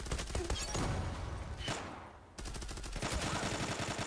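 Rapid gunfire from the video game Zula, loud automatic bursts in quick succession with a brief lull midway before the shooting resumes densely.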